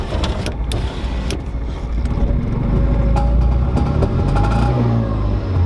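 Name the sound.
Chrysler TC 16v engine revving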